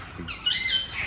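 A parrot at a zoo enclosure holding different parrot types gives a short, harsh squawk over steady outdoor background noise, close and moderately loud.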